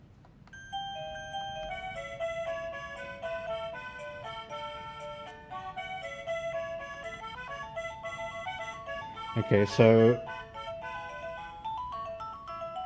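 A chiming melodic ringtone plays from the plug-in ringer of a Laser smart video doorbell, a steady run of bright electronic tones sounding throughout, with a brief louder burst near the end and a few quiet spoken words.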